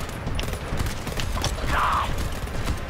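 Dense gunfire in the co-op shooter game GTFO: a steady, loud wash of overlapping shots and mechanical clatter filling the whole stretch with no pauses.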